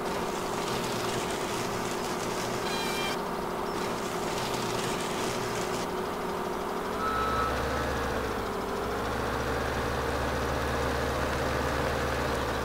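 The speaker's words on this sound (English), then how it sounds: "I bought a Volvo truck" Repeating reversing beeps from a Volvo truck, added as a video game mod, ring steadily over an idling heavy engine whose low rumble grows deeper and fuller partway through.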